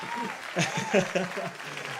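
A few hand claps from one person during a music livestream, brief and close, mixed in with someone talking over them.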